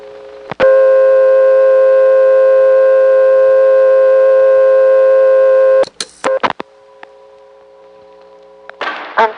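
A payphone gives a loud steady multi-tone signal after the digit 1 is dialed, holding for about five seconds before abruptly cutting to clicks, brief bursts and a quieter lingering tone.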